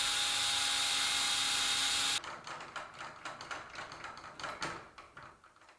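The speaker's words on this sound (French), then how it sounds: "Percez et montez-la à l'aide des 4 vis." A garage door bracket is being mounted on a motorized sectional garage door: a steady high whine of drilling runs alone for about two seconds, then short bursts of driver whirring and ratcheting clicks follow as screws are driven in.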